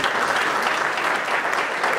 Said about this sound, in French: Ça vaut vos applaudissements, s'il vous plaît.